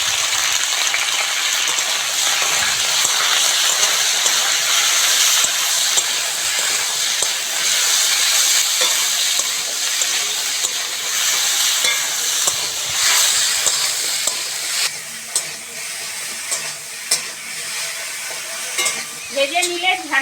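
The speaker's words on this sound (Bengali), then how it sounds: "প্রথমেই কড়ার মধ্যে সর্ষের তেল দিয়ে ঢ্যাঁড়সটা ভালো করে ভেজে নেব।" Cut okra frying in mustard oil in a wok with salt and turmeric: a loud, hissing sizzle that runs steadily throughout, with scraping stirs and a few metallic taps near the end.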